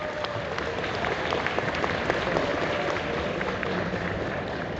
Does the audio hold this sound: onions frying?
no